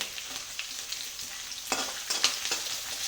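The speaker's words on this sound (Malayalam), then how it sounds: "തേങ്ങാക്കൊത്ത് കുറച്ച് മൂത്ത് കഴിയുമ്പം ഇഞ്ചി ഇട്ട്, അത് കഴിയുമ്പം കുറച്ച് വെളുത്തുള്ളി ഇട്ട്" Coconut pieces, ginger and garlic fry in a hot pan with a steady, close sizzle, broken by a few sharper crackles and stirring scrapes.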